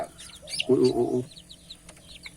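High, thin peeping from chicks chirps intermittently, with a brief low clucking in the middle, close by and fairly quiet.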